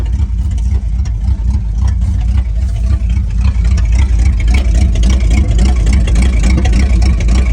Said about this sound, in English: Wow, that's one cold motor. Let's listen to it run.